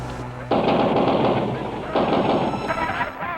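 Soldiers fire machine guns on a crowd at a peaceful rally in the Plaza of the Three Cultures. Two long, loud rattling bursts sound close by, with voices faintly beneath.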